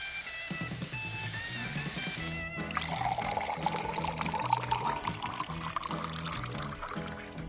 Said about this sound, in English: Cover cherry Jello powder with water.